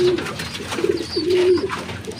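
Pigeons on a roof coo softly in low, throaty bursts, a couple of rolling calls close by against light outdoor background noise.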